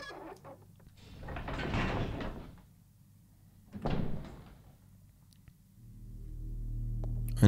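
A door in the Resident Evil Zero video game swings open with two drawn-out creaking, scraping sweeps, separated by a short quiet gap, followed by a low rising rumble, all close and without speech.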